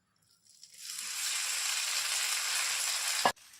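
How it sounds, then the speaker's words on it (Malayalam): Cooked Maggi noodles being stirred into melted chocolate in a pan give a steady, close wet sizzling hiss that builds over about half a second and runs continuously, then ends abruptly with a single sharp knock. "ഇനി ഇതിലേക്ക് വേവിച്ച് മാറ്റി വെച്ച മാഗി ഇട്ട് നന്നായിട്ടൊന്ന് മിക്സ് ചെയ്ത് കൊടുക്കാം"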